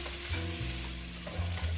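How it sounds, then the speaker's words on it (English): Vegetables being stirred in a soup pot for vegan coconut lentil soup, a steady sizzling hiss with low scraping and thumping of the spoon against the pot, close and continuous with no talking. "Stir to coat the vegetables"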